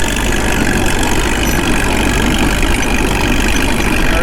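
A Caterpillar D2 tractor's diesel engine runs hot, a loud, close, steady rumbling idle with an even mechanical chug throughout, no voices over it.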